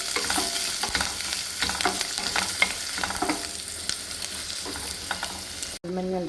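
Sliced onion frying in a pan, with steady sizzling and repeated stirring scrapes throughout, close and fairly loud; a short break near the end, then the sizzle resumes.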